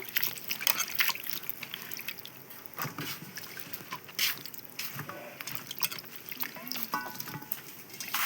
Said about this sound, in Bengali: আমি এখন ফুলকপি ধুয়ে নিতেছি সুন্দর করে।